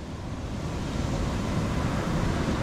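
Big ocean waves churn at sea during a strong typhoon, a constant low rushing roar mixed with wind buffeting the microphone, no voices.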